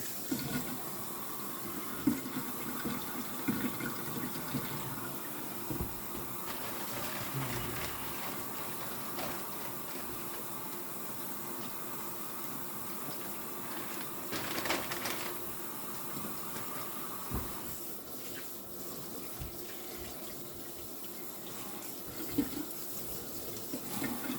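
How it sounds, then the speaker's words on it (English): Tap water runs steadily over fresh farm-raised bacon being rinsed of leftover curing salt, a continuous moderate splashing wash with small clatters, no talking. "Give it a good rinse. Wash it really, really good."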